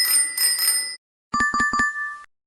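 A bicycle bell rings close and clear with a bright, warbling metallic trill for about a second, then a short burst of clicking electronic tones follows.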